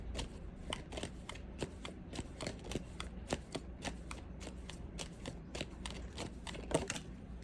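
A tarot deck being shuffled by hand, quick soft flicking card riffles repeating steadily and quietly at close range.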